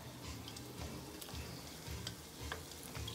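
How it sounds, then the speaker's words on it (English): Battered cauliflower pieces frying in hot oil, a steady soft sizzle and crackle with small pops, close and fairly quiet, with no talking. "So we're gonna drop our cauliflower in here so it can fry up"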